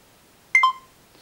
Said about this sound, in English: it beeps again when it has finished recording